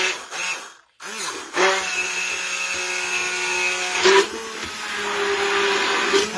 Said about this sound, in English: mixing this up, stirring it